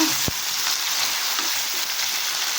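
Two large chopped tomatoes fry in a pan for Rayalaseema-style uggani, a close steady sizzle with one sharp knock of a utensil near the start and no talk.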